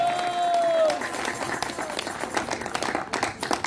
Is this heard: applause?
yes